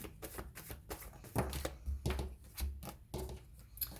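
Tarot cards being shuffled by hand, a quiet run of rapid riffling and tapping bursts in an irregular rhythm, close but faint, with no talking.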